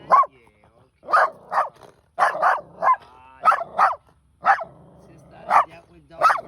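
Dogs at an animal rescue let out a string of short, punchy barks and yips in irregular bursts, close and fairly loud, with someone talking to them between the barks.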